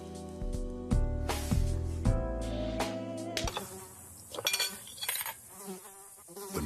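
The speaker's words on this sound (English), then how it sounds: "When mosquitoes show up," Mosquitoes buzzing in a Terminix pest control advert, a thin, wavering insect whine over low tonal music and percussive hits, fairly quiet and mixed under other sounds.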